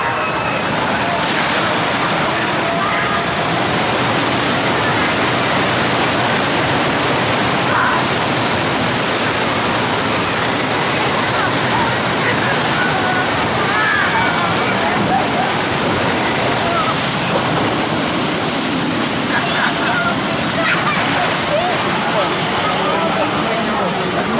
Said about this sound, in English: But I'll put some log flume shots in